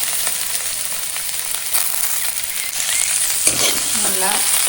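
Chopped spinach sizzles and crackles in hot coconut oil, a loud continuous frying hiss with some stirring and faint background sounds.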